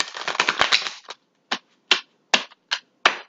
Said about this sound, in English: I'm going to just shuffle this one more time